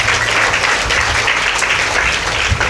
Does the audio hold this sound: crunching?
no